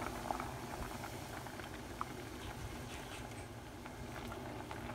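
Fresh noodles and mushrooms boil in a pot, with a steady bubbling simmer and small pops and plinks, close and continuous and no talking.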